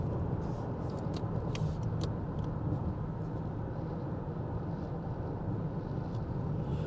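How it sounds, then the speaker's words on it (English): Steady low road rumble and tire hum fill the cabin of a 2023 Toyota Crown XLE cruising along, a constant broadband drone with a touch of wind noise and no talking. "see what the road noise is like."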